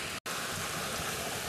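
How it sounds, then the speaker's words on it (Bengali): Heavy rain falls steadily outside, a dense, continuous hiss of downpour that stays even throughout apart from a tiny break near the start. "বাইরে এতটা পরিমাণ বৃষ্টি হচ্ছে"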